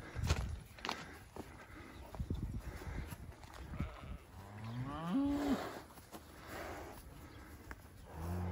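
A cow on a farm gives a drawn-out moo during trailer loading, amid shuffling hooves, footsteps and scattered thumps, with the animal sounding fairly close.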